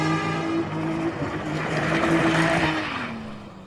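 A car's tires squeal in a sustained, tonal screech as it skids, held for about three seconds alongside engine noise before the pitch drops and fades out.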